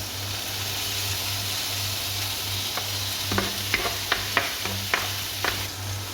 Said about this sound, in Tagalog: So, usually, ginagisa sa gid nako ang kining ginger, tomato, ug ang onion, pawa ng garlic